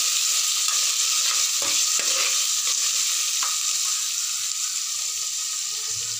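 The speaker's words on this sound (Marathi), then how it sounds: "वाटाणा थोडेसे तेलावरती सॉफ्ट करून घ्यायच्या आहेत भाज्या आपल्याला" Mixed vegetables, green peas and cashews sauté in hot oil in a pan, giving a steady bright sizzle broken by several scraping stirs of a spoon, close up with no voices.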